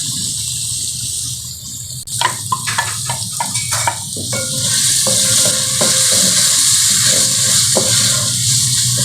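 Carrots for Indian-style macaroni pasta drop into a hot pan, a cluster of sharp clatters and splashes giving way to a loud, steady sizzle of frying.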